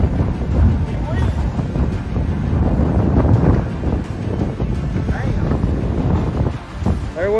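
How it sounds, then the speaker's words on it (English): Strong storm wind roars steadily and loudly right against the microphone during a violent natural disaster, a continuous buffeting rush with faint voices buried beneath. "Get out of the way! Big wind!"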